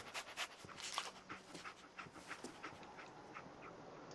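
Dog panting rapidly in Fallout 4, a quick rhythmic breathing that is faint and close, with small whimpering sounds and no talking.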